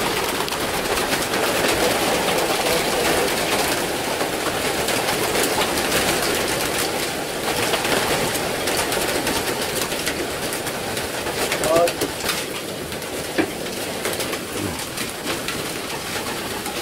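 Young racing pigeons arriving at a loft, with a steady murmur of cooing and fluttering under constant background noise, fairly close and continuous throughout.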